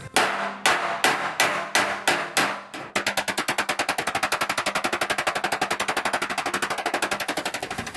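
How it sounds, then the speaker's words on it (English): Sharp metallic hammer blows ring out on sheet metal backed by a dolly, first a few slow evenly spaced strikes, then a fast, steady rapid-fire run of close, loud taps. "Now I can back it with a dolly and we can do some hammering."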